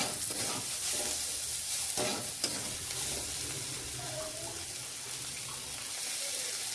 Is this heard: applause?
no